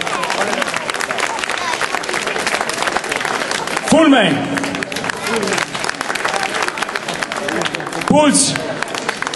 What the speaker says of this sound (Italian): Un applauso, prego.